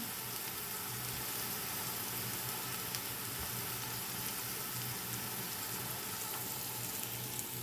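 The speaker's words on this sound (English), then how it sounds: "I'm going to lay it on top of these onions and saute that right in" Frozen celery taken straight from the freezer sautés on a bed of onions for gnocchi soup, giving a steady, dense sizzle and crackle that holds at an even level throughout, close by and with no talking.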